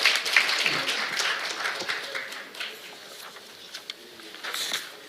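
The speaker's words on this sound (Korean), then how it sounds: "박수 부탁드리겠습니다" Scattered audience applause at a party national convention for choosing a presidential candidate, moderately loud at first and then thinning to sparse claps with a few louder bursts, under a faint hum of the crowd.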